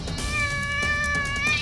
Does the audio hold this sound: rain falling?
no